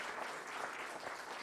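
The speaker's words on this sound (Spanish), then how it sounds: "Les pido un fuerte aplauso" Audience at an academic event on open access to a historical archive applauding, a continuous dense wash of many hands clapping at steady strength throughout.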